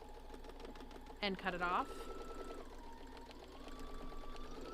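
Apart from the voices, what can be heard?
sewing machine stitching a boxed bag corner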